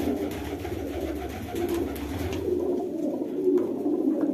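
Pigeons coo softly in a low, steady, murmuring stream at a home pigeon loft, the calls overlapping continuously at close range with faint background noise and no talk.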